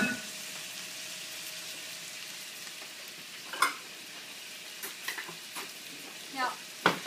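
Ground beef mixed with bison cooks in a pan with a steady, low sizzle, broken by a few soft scrapes and clinks of a utensil against the pan near the end.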